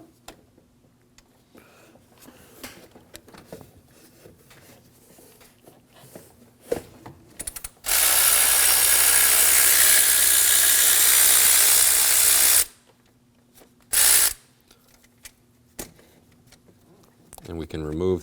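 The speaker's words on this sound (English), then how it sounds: "On the front of the thermostat housing, we have an 8mm bolt. We can go ahead and remove that." A tool working on the 8mm bolt of a thermostat housing on a 2009-2014 Ford F-150 3.5L V6, light ticking and clicking first, then a loud steady whir for about five seconds and a short second burst, with brief talk near the end.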